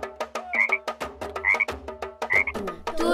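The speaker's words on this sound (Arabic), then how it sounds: "ضفدع." A frog croaking in a steady, rapid series of loud, close, rattling calls, each punctuated by short clicking pulses, with no voices over it.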